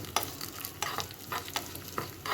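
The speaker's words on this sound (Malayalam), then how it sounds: "നമുക്കൊന്ന് ഇളക്കി കൊടുക്കാം." Crushed chili powder being stirred into a hot frying tempering of spices, a continuous oily sizzle broken by repeated scraping spoon strokes at a steady rhythm, close and fairly quiet with no voices.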